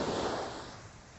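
Calm Atlantic Ocean surf at Deerfield Beach, Florida, a soft steady wash of small waves breaking nearby, fading slightly over a brief moment, with light wind.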